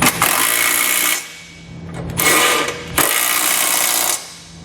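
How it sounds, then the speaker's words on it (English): A power tool with an 11/16 socket tightens flange nuts while a trailer hitch receiver is installed, three loud close bursts of whirring and rattling separated by short pauses. "I'm going to come back with an 11/16 socket, and I'm going to tighten up all my flange nuts"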